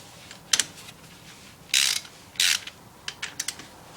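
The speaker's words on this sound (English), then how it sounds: "Take the bolts out of the differential cover here." Ratchet loosening the differential cover bolts on a Jeep Wrangler axle, heard up close as several short bursts of rapid clicking with two longer runs in the middle, and no talking.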